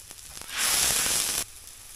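Soy sauce hits a hot pan of fried meat and rice crust with a sudden loud hiss that holds for nearly a second, then cuts off sharply after a few faint taps.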